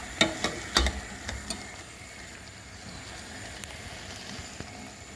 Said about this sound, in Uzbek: Qovuramiz mana